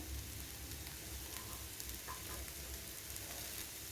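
Egg sautéing with chopped coriander and curry leaves in a hot pan gives a steady, close, dense sizzle and crackle that never lets up, with no voices over it.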